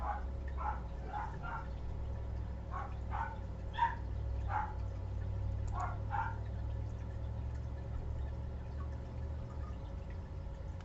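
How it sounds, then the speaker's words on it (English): Dog barks in a series of faint, distant yaps in loose bursts over the first six seconds, then goes quiet under a low steady background hum. "what is my dog barking at?"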